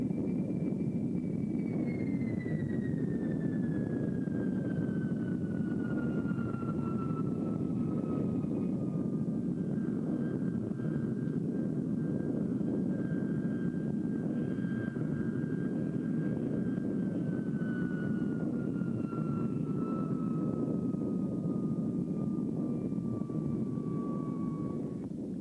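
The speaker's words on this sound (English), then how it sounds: "the jetliner came in for a perfect landing." An Avro Jetliner jet airliner comes in to land, a steady loud engine roar with a high whine slowly falling in pitch, continuous and fairly close throughout.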